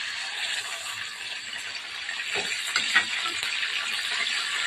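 Mint leaves frying in hot oil, a steady bright sizzle with faint stirring rattles and small pops, close and continuous, with no voice over it.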